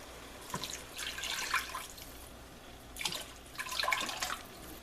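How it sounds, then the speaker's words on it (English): Two canned 14-ounce portions of beef broth pour into a cooking pot in two separate splashing bursts with a quiet pause between them, close up and without talk. "Now I'm going to add 2 14-ounce cans of beef broth."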